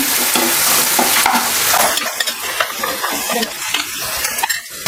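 A pan tempering for aval (poha) upma, with green and dried chillies and curry leaves going in, gives off a loud, steady sizzle and frying hiss while a utensil stirs and scrapes close by, with no voices.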